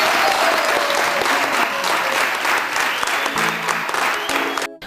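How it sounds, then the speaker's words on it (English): An audience applauds a young Zambian honoree, Edify Hamukale, with dense, sustained clapping from a sizable crowd that stays full and even before cutting off abruptly at the end. "Clap for him again."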